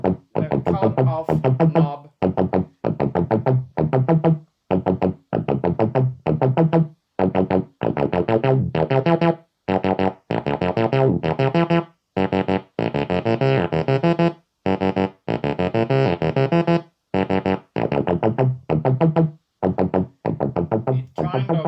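A Korg Volca Nubass synthesizer plays a repeating bass sequence of short, evenly spaced notes while the filter cutoff knob is turned, so the tone brightens and darkens across the pattern, loud and alone.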